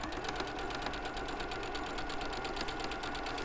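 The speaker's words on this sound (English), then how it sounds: "So I'm just sewing straight down the middle." A sewing machine stitches a straight seam down the middle of fat quarter patchwork fabric, giving a fast, steady, even run of mechanical needle beats that carries on uninterrupted and close.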